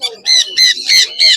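A tame exotic pet bird at a market squawks four times in quick succession, each call harsh, loud and close, with short gaps between them.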